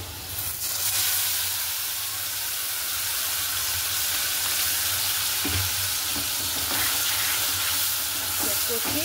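Potatoes fried with salt and turmeric sizzle in a pan after a spice paste is added, a loud, continuous close frying hiss with occasional stirring knocks and no speech.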